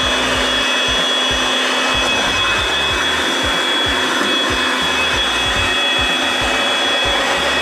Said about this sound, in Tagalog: Pangalawa, blower.